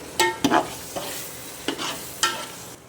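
Cooked mutton is stirred into a spicy ground masala of garam masala and onion in a pan, with a few distinct scraping stirs and light sizzling, close and moderately loud, heard alone.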